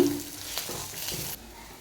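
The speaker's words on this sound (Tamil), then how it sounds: "பிரண்டையோடைய கலர் மாறுற அளவுக்கு இதை நல்லா வதக்கி எடுத்துக்கலாம்." Pirandai (adamant creeper) sautéing in a pan gives a steady close sizzle with a brief stirring scrape, and the sound drops off abruptly near the end.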